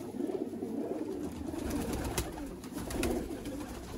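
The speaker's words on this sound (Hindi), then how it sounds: "ये बेसिकली टैडी कबूतर है" Teddy pigeons coo softly in low, repeated throaty murmurs over a faint background hiss, with no voices.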